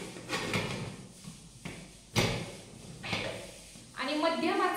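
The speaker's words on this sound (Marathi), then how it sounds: "तर आता कुकरचं झाकण लावूयात" A pressure cooker lid set on and fastened over boiling aloo matar pulao, with a few close metallic clunks and scrapes followed by a hiss, while someone talks.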